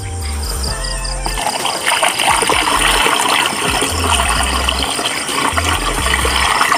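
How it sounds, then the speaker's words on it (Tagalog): Water splashing and trickling as it is scooped from a tank at night on a farm, loud and close, over a steady mix of background noise. "Dito nga pala tayo kumukha guys ng tubig. Ayan, sa tangke. Salok lang tayo dyan."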